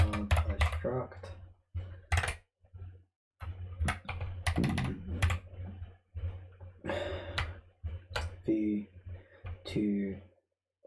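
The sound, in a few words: typing on a keyboard with clicky switches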